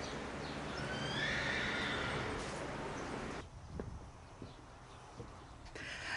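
A horse whinnies loudly over steady outdoor noise, followed by quieter stretches with scattered hoof knocks and shuffling.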